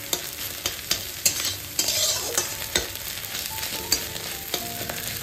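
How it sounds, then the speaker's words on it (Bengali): An egg fries lightly in a pan with a steady soft sizzle, broken by repeated sharp scrapes and taps of a spatula stirring, close and alone with no voices. "একটু হালকাই ভাজবো, দিয়ে ভেজে আমি তুলে রাখবো।"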